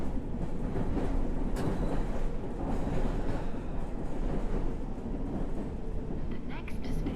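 Circle Line subway train in the World of Subways video game, a steady, loud rolling rumble that runs throughout with faint clicks and a brief high squeal near the end.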